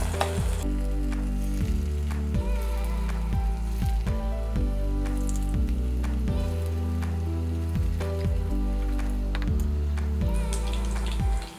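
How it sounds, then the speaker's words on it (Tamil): Chicken balls deep-frying in hot oil crackle and bubble loudly and continuously, with repeated scraping or stirring sounds and a bright sizzle throughout, no talk. "வச்சுட்டு இந்த பீசஸ் ஒன்றுத்தையும் இதுக்குள்ளே போட்டு பொரிச்சு எடுத்துடலாம்."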